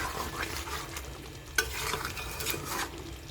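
Fish head and pumpkin curry with garam masala being stirred in a pan, soft scraping strokes over a light sizzle, with one sharp utensil clink near the middle.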